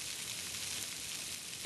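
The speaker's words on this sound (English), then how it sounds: "The pan is nice and hot, and right now I'm placing the spam, the cut spam," Cut pieces of spam sizzle in a hot pan, a dense steady hiss that holds evenly for a moment with no voices.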